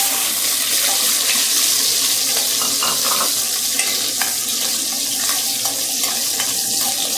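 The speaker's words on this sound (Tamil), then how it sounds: "இப்போ வந்து இந்த 100 கிராம் சின்ன வெங்காயத்தை போடலாம்." Small shallots frying in hot oil with popped mustard seeds for a ground-masala sambar, giving a steady close sizzle with faint stirring clinks throughout and no talk.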